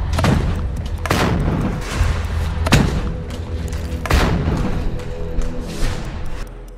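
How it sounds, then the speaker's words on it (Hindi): Heavy gunfire in Gaza: repeated loud booming shots and thuds at irregular intervals, some close and sharp, others rumbling, over a constant low background rumble. "ताबड़तोड़ चलती ये गोलियां"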